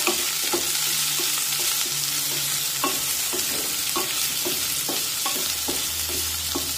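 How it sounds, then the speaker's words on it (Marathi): Thinly sliced onions fry in oil for a spicy green pea curry, giving a loud, steady sizzle with regular scraping strokes as a spatula stirs them through the pan. "ते या तेलामध्ये टाकूया. आणि कांदा हलका मऊ होईपर्यंत शिजून घेऊया."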